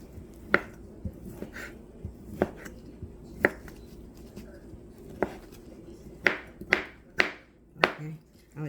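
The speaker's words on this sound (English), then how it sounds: "Okay, I'm gonna chop this up" A knife chops cooked spatchcock chicken breast on a board, making about a dozen sharp, close thuds at an uneven pace, faster toward the end.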